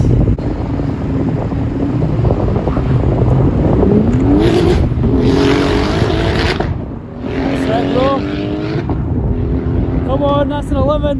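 A Lexus IS200 fitted with a turbocharged VR6 engine makes a drag racing pass, its engine rising in pitch through gear changes under heavy wind noise and excited shouting from nearby spectators.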